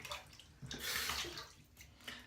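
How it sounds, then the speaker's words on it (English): Water splashing and trickling at a sink during a wet shave with a Muhle DE89 safety razor, a couple of close bursts of splashing onto the face, no talk. "Just a little bit of water on the face here."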